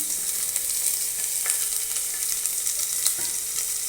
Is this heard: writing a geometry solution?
no